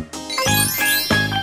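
A bright bell rings three times in quick succession, each strike clear and loud with a shimmering, sustained metallic tone that rings on between hits.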